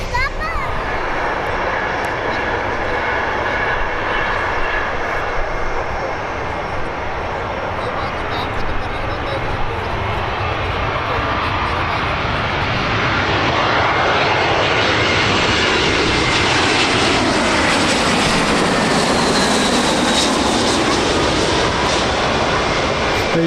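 An aircraft arriving at Birmingham Airport roars loudly and continuously as it passes close by, its engine pitch sweeping down and back up, with a voice speaking over the noise.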